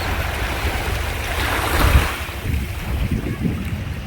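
Small waves lap on a calm beach at Cancun, a steady wash of surf with heavy wind rumble on the microphone and a brief swell in the middle, continuous and close.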